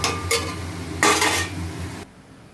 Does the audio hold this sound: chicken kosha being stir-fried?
yes